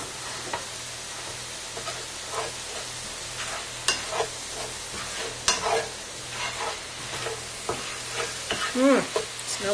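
Ground spices fry in olive oil in a pan while cooking turkey chili, a steady sizzle broken by repeated stirring scrapes and clatters, with a brief voice near the end.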